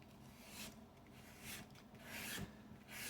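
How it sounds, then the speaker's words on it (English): 600-grit sandpaper rubbed along a leather edge in short, rhythmic rasping strokes, faint and close, with about four passes and no voices. "We'll start with my little 600 sandpaper."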